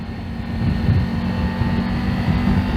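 A Triumph Tiger 900 Rally Pro motorcycle engine runs at high revs near 6,000 RPM with a loud, steady droning hum and buzzing vibration. Rushing wind noise is heard throughout.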